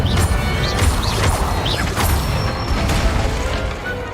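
In the Hogwarts Legacy video game, an Incendio fire spell strikes a training dummy during practice, producing a steady run of crackling bursts and clattering impacts with bright whooshes. Each hit is loud and close, and no voices are heard.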